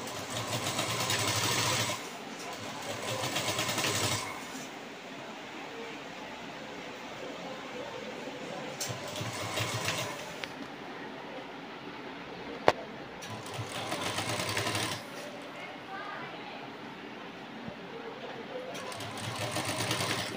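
Sewing machine stitching piping onto a dress neckline, running in several distinct bursts of a few seconds each, with quieter pauses between runs; close and steady.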